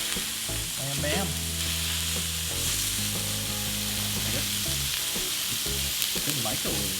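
Sour cream is stirred into sizzling shepherd's pie filling in a pan, steady frying hiss with soft scraping and stirring strokes throughout, no talk.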